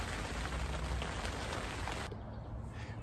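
Rain falls steadily beside a carp lake in an English park, a dense, close patter on nearby surfaces that goes on evenly throughout without any voices.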